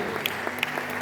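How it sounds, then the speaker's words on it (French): Audience applause at a women's church conference in Sheffield, a steady wash of clapping with a few sharper claps standing out over a low hum of the hall. "Applaudissez les protocoles, s'il vous plaît"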